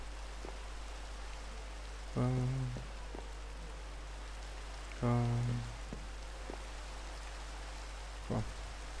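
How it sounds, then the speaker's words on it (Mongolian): Steady rain patters down in a video game, a constant broadband hiss, while a nearby voice interjects a few short sung syllables over it. "Ингээ бороо орох."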